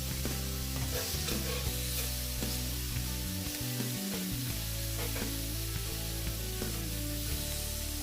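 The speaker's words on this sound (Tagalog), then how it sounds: "So, saglit lang natin to ipiprito." Seafood frying in a pan, a steady dense sizzle that runs continuously with a sustained tonal background underneath.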